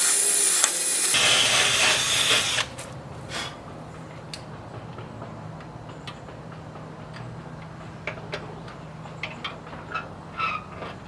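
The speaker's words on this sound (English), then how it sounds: "Gotta try and get a little bit of oil down in those." Oil sprayed from a can onto the seized parts of a locked-up riding mower, a loud hissing burst at the start followed by fainter scattered ticks and small clicks nearby.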